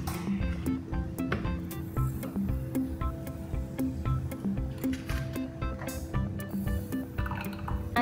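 Blended non-alcoholic piña colada made with cream and rum extract is poured into cups, giving a steady liquid filling and dripping sound with light clinks over a busy room background.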